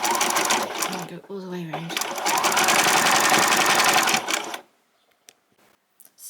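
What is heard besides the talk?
sewing machine zigzag stitching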